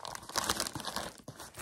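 Velcro closure on the pocket of an inexpensive fashion handbag being pulled open, a rough ripping crackle up close, lasting over a second with a brief break near the end, no talking.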